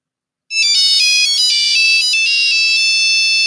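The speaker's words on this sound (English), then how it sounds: "That ringtone right here." A loud electronic ringtone from a vintage mobile phone plays a bright, beeping melody of repeating tones, starting abruptly after a short silence.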